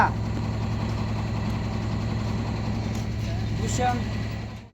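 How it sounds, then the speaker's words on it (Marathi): A band's new vehicle engine runs at a steady, loud idle after starting, a low rumbling drone that holds evenly throughout, with a brief faint squeak near the end. "तर मित्रांनो बघू शकता गाडी चालू झालेली आहे"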